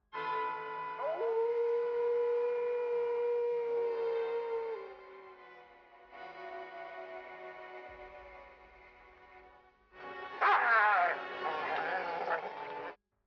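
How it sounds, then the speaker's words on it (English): A werewolf howls in the 1941 horror film The Wolf Man: long sustained, wavering tonal howls with harmonics, a pause of lower drawn-out calls, then a louder, more agitated burst of howling near the end. "The people in the village are awakened by the howling."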